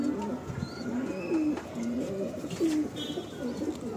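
Pigeons coo repeatedly in a loft, several soft, low rolling calls in a steady rhythm close by, with faint chirps and a light background hiss.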